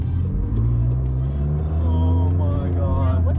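A McLaren 600LT in manual mode revs its engine close by, with a deep rumbling idle that swells into rising, whining rev sweeps, loud and continuous.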